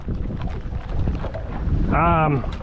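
Steady wind buffeting a microphone outdoors, a broad rumbling roar throughout, with a brief tonal whine near the end.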